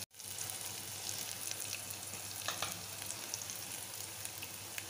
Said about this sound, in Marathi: आणि मस्त असं लसूण थोडासा ब्राऊन लाल होऊ द्यायचा थोडासा